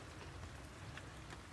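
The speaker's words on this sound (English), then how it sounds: "pouring down with rain again." Heavy rain pouring down over a carp fishing spot, a dense, steady hiss of falling water with no breaks and no talk.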